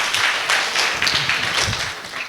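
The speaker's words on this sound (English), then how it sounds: "A thunderous applause for Vitrang Sompura ji" Audience applause at a civil engineering technical seminar in Ranchi, a steady, dense wash of clapping from a crowd that holds for about two seconds with no voices over it.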